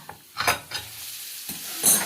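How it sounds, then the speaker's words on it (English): Butter and a brownie hit a hot sizzler tray, giving short hissing sizzles and stirring scrapes in separate bursts, close and fairly quiet, with no talking. "This will ensure we get even more sizzling effect"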